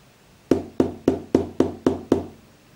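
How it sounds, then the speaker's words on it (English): Seven sharp knocks rap on a speaker box in an uneven sequence, an incorrect secret-knock pattern for an Arduino solenoid door lock, close and clear with no voices. "If I knock in wrong pattern,"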